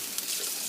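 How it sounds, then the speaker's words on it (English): A pan is run under a cold kitchen sink tap, producing a steady close hiss of flowing water that splashes evenly for under a second with no talking. "I'm going to place it in the water, and you want to run it under cold water."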